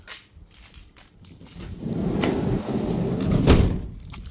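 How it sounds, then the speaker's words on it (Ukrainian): A Mercedes-Benz Sprinter 314 van's side sliding door rolls along its track and shuts with a solid thud, preceded by a few light clicks and handling noises. "закривається бокова дверка"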